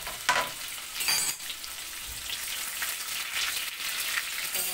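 Cumin seeds sizzle in hot oil for a tempering, a steady crackling hiss with brief louder pops and spatters, close and continuous with no talking.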